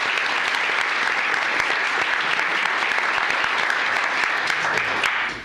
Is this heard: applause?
yes